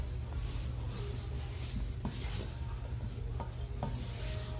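Apple pie filling is stirred and rubbed around a bowl in a continuous close scraping swish, with a few sharper knocks scattered through the motion.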